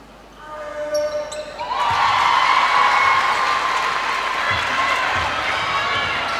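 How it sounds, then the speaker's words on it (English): Hawks supporters in a basketball crowd burst into loud, sustained cheering that swells after a quiet start, with a few ball bounces and thuds beneath. "So the Hawks crowd find their voices, and they'll have another chance."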